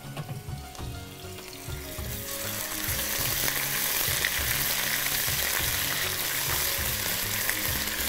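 Garlic and ginger paste is stir-fried in a hot pan. A loud, close sizzle swells after the first couple of seconds and then holds steady, with a faint rhythmic scraping underneath and no talk.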